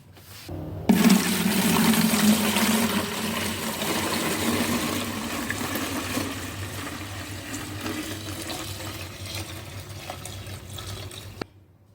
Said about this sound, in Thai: เทลงถังสำหรับบ่มเลยนะคะ